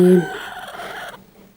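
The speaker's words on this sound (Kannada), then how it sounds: "ಇದು ಕೋಳಿ ಮೊಟ್ಟೆ ಇಡುವಂತಹ ಕೋಳಿ ಇದೆಯಲ್ಲ" An egg-laying native country hen on a poultry farm gives a short, loud call at the start, then quieter clucking and low background noise trail off.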